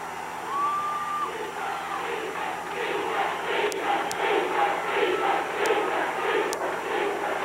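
Home crowd at a 1995 high school boys basketball sectional semifinal, Dodgeville vs. Viroqua, roaring and cheering continuously in a gym, with a whistle early on and sneaker squeaks cutting through the steady din.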